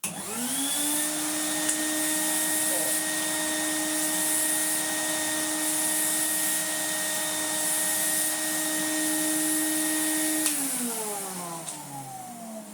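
A Numatic vacuum cleaner fitted with a knockoff free flow floor head runs with a loud, steady motor whine, then is switched off and winds down over the final couple of seconds.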